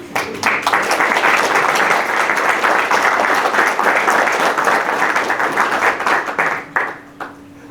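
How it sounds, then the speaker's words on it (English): A ceremony audience gives a sustained round of applause at an educators' hall of fame induction, with many hands clapping loudly and evenly before the clapping thins out and stops near the end. "let's give them one more round of applause"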